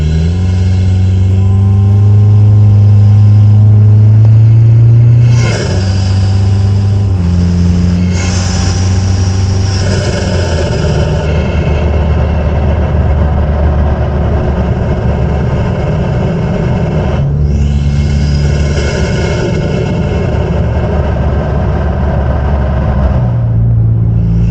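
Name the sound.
car engine with Banks intake revving, turbo audible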